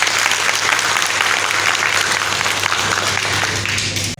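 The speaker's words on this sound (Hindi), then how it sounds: "इसके लिए जोर ताली बजाएं" A crowd at a community organization gathering breaks into loud, sustained clapping, dense and even throughout before cutting off at the end.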